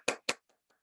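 Two crisp hand claps close together near the start, followed by a few faint, scattered taps as the round of applause for an event's organizing team trails off.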